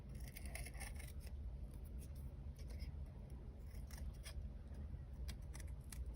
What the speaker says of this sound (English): I need to find my larger scissors.